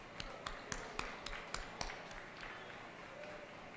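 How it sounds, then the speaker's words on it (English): Applause at a Choctaw dance ground, with a handful of sharp claps standing out over crowd noise early on, then fading to a softer murmur of the gathered audience. "Let's give him another round of applause."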